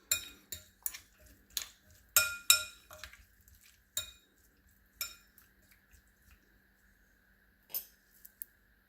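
Cucumber and avocado salad being stirred in a bowl, heard as a run of distinct clinks and knocks of a utensil against the dish, quick at first, then sparser and quieter, with a faint steady hum beneath.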